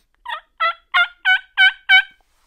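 A turkey mouth call imitates a gobble: six quick, sharp yelping notes in an even rhythm, growing slightly louder, close and alone with no talking.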